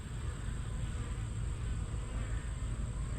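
Honey bees buzz steadily inside an opened hive, a dense, continuous droning hum close by with no talking over it.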